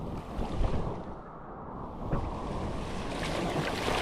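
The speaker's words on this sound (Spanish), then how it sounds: "sí está un poco bravo las olas" Rough ocean waves crash and wash onto the beach at Cancun, a broad continuous roar of surf with wind buffeting the microphone, steady and fairly close, with no talk.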